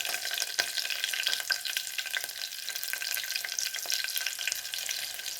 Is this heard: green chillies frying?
yes